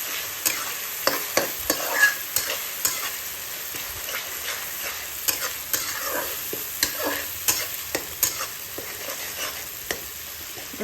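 Green chillies frying in a pan with oil while being stirred, a steady close sizzle with repeated sharp scraping and clicking strokes of the spoon through the whole stretch, no talk.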